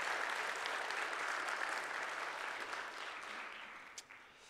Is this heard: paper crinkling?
no